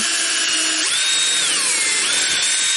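Drill boring a rivet hole straight through metal parts of a Redcoat musket, a loud close continuous whine whose pitch jumps and bends as the bit bites, with no talk.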